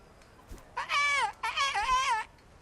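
A voice imitating a nightingale's song in the video game Kingdom Come: Deliverance, two warbling, whistle-like sung phrases with wavering pitch, close and clear against a quiet background.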